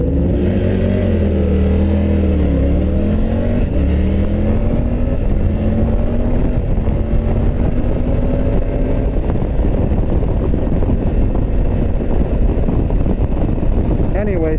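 A 2022 Triumph Tiger 900 Rally Pro adventure motorcycle ridden on the street: a steady, loud engine drone with rising and falling revs and heavy wind rush, while a rider talks over it.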